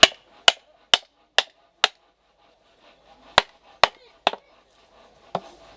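A blade chops into wood nine times while hollowing out a wooden bowl at a bushcraft show demonstration. The sharp, close thwacks come in two quick runs of five and four, separated by a short pause.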